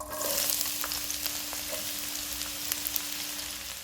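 Sliced large onion frying in oil, a soft steady sizzle with scattered crackles and a faint constant hum underneath, no talking.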